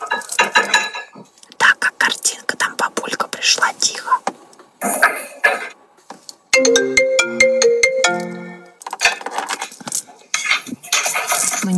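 A phone ringtone signals an incoming call with a clear, melodic electronic tune that plays loudly for a couple of seconds, set between whispered talk and the clink of dishes and cutlery.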